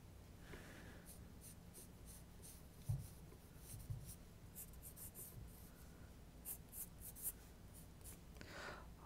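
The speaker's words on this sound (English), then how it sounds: "this is just a standard number 2 pencil. It's all I'm using." A standard number 2 pencil drawing on paper, soft close scratchy strokes in short irregular bursts with a few light taps, quiet and alone.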